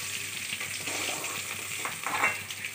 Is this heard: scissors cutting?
no